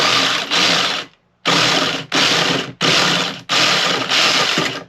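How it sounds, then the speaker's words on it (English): Pipe being cut with a small hand hacksaw makes five loud, close rasping strokes in a steady back-and-forth rhythm, with one short pause between bursts. "I'm gonna cut it right here. So, take me a little hacksaw."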